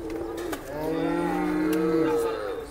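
A single drawn-out moo from a cow carries close and clear at the Modnimb cattle market, rising and holding for about a second and a half over faint background murmur.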